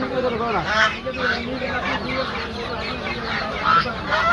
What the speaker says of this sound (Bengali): দেখুন দেশি মুরগি কালেকশন